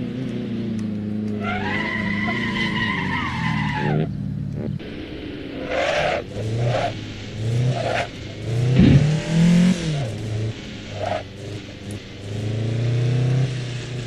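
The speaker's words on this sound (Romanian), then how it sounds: "Da, este o Lada, o mașină foarte veche." An old Lada driven in the racing game Assetto Corsa, its engine droning and revving loudly as the tyres squeal through skids, with a voice talking over the car.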